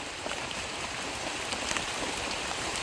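Steady rain falling at night, a dense close patter of drops on surfaces with no pauses or voices.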